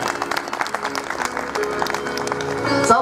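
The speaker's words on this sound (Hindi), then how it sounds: "अरे तालियां तो बजा दिया करो।" Scattered audience clapping at a Hindu religious discourse gathering, light and uneven under a hum of crowd noise and background music.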